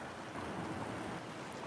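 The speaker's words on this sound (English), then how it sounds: "A little more thunder." Steady rain falls with low, rolling thunder rumbling underneath, a continuous broadband wash of downpour throughout with no voices.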